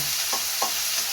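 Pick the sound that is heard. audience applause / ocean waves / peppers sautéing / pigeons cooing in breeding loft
peppers sautéing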